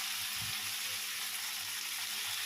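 A steady, soft sizzle of chopped tomatoes sautéing with rock salt in a pan, with a faint stir or clink near the start and no talking.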